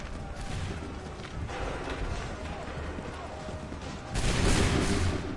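Musket volleys firing on a battlefield in Assassin's Creed 3, crackling bursts of gunfire under shouted orders and battle noise, with a louder volley swelling near the end.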